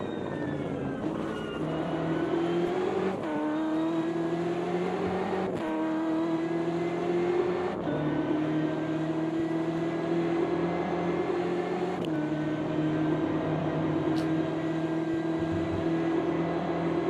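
A BMW race car in the Automobilista 2 racing game is heard from outside the car: a fairly quiet, steady engine drone that breaks off and resumes at each of several gear shifts.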